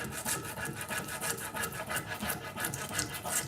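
Firm rubbing of a transfer sheet against painted wooden furniture, a steady close dry rasping scrape that repeats in quick even strokes with no talk over it.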